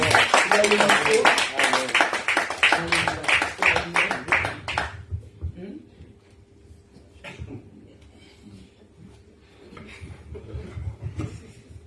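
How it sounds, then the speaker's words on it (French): Members of a church congregation clap in brisk, loud applause that stops abruptly partway through, leaving a quieter stretch with scattered taps and light room sounds. "est-ce que vous pouvez applaudir pour qu'il avance?"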